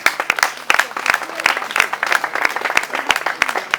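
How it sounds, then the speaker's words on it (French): Audience applause at a comedy show at the Goethe-Institut in Lomé, a dense patter of many hands with sharp, irregular claps standing out, fairly close and steady throughout. "aidez-moi à les féliciter. On applaudit, quoi."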